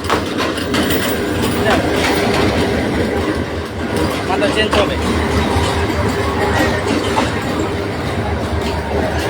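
A train arrives at Bhairab railway station in Kishoreganj, its wagons rumbling and clattering loudly and continuously close by, with crowd babble and a voice speaking over the noise.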